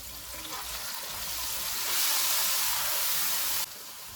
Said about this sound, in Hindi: इनको 3 से 4 मिनट तक भूनेंगे।